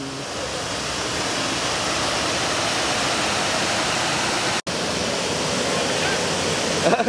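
Water pours steadily down a waterfall lit by colour-changing lights, a continuous loud rushing hiss that stays even throughout, broken only by one very brief dropout partway through.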